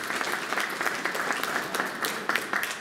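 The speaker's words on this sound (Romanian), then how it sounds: "Aplauze pentru ei și să le mulțumim." Audience applause at a Roma and Sinti International Day event, a dense, steady wash of many hands clapping throughout, fairly loud and with no voices over it.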